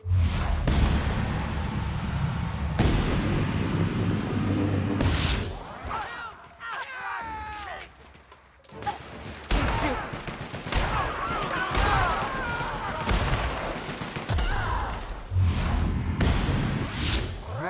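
Sniper rifle fire and other gunfire from The Outer Worlds video game, heard as loud bursts of shots and sharp reports with whooshing effects across busy game audio, with a voice talking at times.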